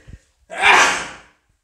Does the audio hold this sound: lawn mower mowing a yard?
no